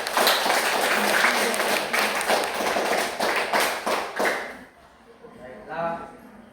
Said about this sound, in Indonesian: Kita kasih aplaus dulu untuk semuanya.